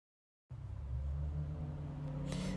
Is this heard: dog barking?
no